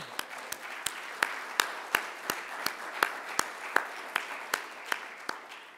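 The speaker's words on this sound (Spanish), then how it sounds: "al menos aplausos podemos dar a Ricardo." Sparse, slow clapping from a small audience at a talk on digital media, individual claps landing roughly every third of a second and fairly close, carrying on steadily for several seconds.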